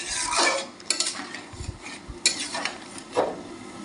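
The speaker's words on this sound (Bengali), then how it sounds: "এই যে 2 চামচ সর্ষের তেল দিয়ে ভালো করে নাড়িয়ে নেব।" Potato poppy-seed curry (aloo posto) being stirred in a pan with mustard oil: several scraping spoon strokes and light metallic clinks over a soft sizzle, close and fairly loud, without talk.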